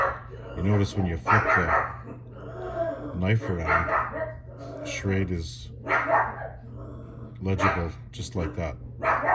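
Several dogs bark and yip repeatedly in the background while someone talks continuously over them at close range.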